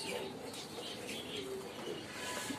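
Jacobin pigeons coo softly at a pigeon farm, low murmuring calls repeating against a steady background of other birds, moderately distant and fairly quiet.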